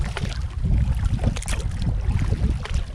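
Paddle strokes and water wash from a small boat moving upriver on the Osage River on a cool, light-wind day, with steady rushing water and faint wind noise close to the microphone.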